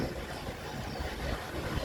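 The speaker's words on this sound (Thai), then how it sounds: "อยู่ท่ามกลางธรรมชาติน้ำตกเสียงนก ร้อง" A waterfall in a natural setting roars as a steady, dense wash of rushing water, continuous and fairly loud from start to end; no birdsong stands out above it.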